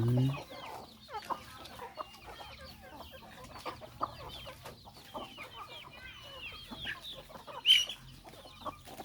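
Free-range native village chickens clucking softly and intermittently nearby, with scattered short calls and one sharper squawk, in a quiet outdoor farm setting without speech.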